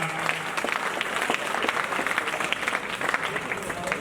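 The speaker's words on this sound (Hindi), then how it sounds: "जोरदार तालियां।" Loud, dense applause from an audience greeting a distinguished female guest at a college event, steady clapping filling the whole stretch with a few voices mixed in.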